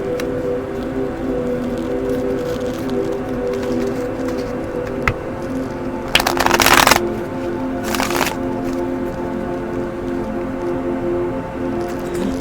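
A deck of tarot cards shuffled in two quick riffling bursts, the first longer than the second, over a steady background of sustained tones.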